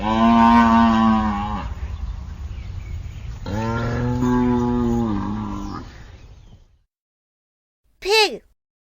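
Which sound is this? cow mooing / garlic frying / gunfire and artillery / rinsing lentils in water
cow mooing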